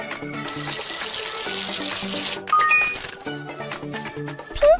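Running water from a tap in a cartoon pet salon game, a short splashing burst in the middle of a steady bed of game music and chiming effects.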